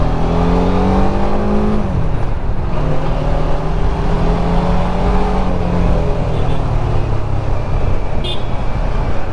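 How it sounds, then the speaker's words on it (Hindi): A BMW F450 GS motorcycle being ridden hard, its engine revving up through rising gears with repeated climbs in pitch, loud and close with steady wind rush and no talk. "अब थोड़ा सा भगाते हैं बाइक को।"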